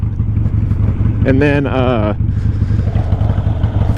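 A Harley motorcycle engine idles with a loud low rumble, then briefly revs up and drops back down at close range, while someone speaks over it.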